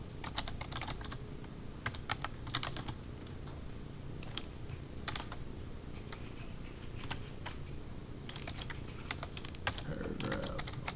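JavaScript code being typed on a computer keyboard, with steady close clicking keystrokes in quick irregular bursts, broken by a few short pauses, over a faint background hum.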